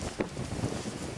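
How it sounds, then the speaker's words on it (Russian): Strong wind buffeting the microphone on Pidan mountain in Primorsky Krai, a continuous rushing roar with gusty swells, heard alone with no talk. "Очень дует ветер"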